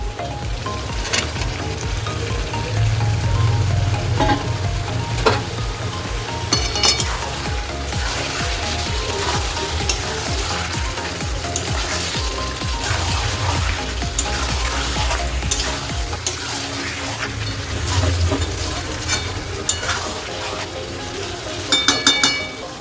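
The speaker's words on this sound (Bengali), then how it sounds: "এবার দিয়ে দেবো ভাজা ইঁচড়টা" Fried jackfruit and fried chicken go into a simmering spiced curry, frying with a continuous crackling sizzle, close up, with occasional utensil clinks and stirring scrapes throughout.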